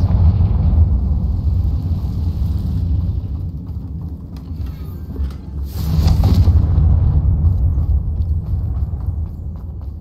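The Confringo blasting spell in the game Hogwarts Legacy lands as one loud, rumbling burst midway, rising out of a steady low roar that keeps going after it.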